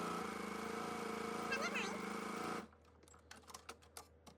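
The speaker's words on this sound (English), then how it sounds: "So now I'm just going to sew a 1/4 inch." A sewing machine runs a quarter-inch seam along foundation paper for a half-square quilt block, a steady close whir that stops abruptly and gives way to light clicks and rustles, with a voice heard over it.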